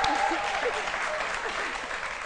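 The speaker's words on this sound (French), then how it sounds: "On applaudit" An audience claps steadily throughout, a dense wash of applause with faint whistles or cheers rising above it.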